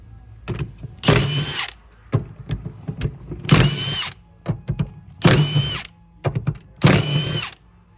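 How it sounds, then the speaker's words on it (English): A power tool drives out 10mm bolts from the valve body of a Honda Pioneer side-by-side in four loud whirring bursts about a second long each. Short clicks and taps fall between the bursts, close up, with no talk. "Now we are going to remove the valve body itself, take out the bolts, the 10mm bolts for it."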